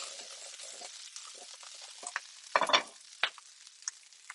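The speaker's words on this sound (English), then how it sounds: "So I'm going to start actually sauteing this around now." Brussels sprouts sautéing in a hot pan, a soft steady sizzle with a few scraping and stirring clatters near the middle, close and quiet with no talk.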